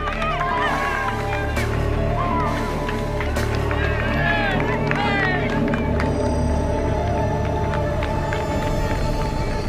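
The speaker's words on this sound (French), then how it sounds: "La foule des Pyrénées se presse sur le passage des champions" Roadside crowd of spectators packed along a Pyrenees mountain climb during the 2001 Tour de France, a dense continuous hubbub of many voices and engine rumble, steady and loud throughout.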